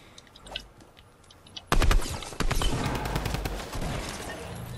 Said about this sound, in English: Someone else is shooting at him.